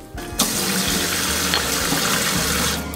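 Hot water runs from a tap into a sink, a steady loud rushing splash that begins abruptly and continues evenly throughout with no talking.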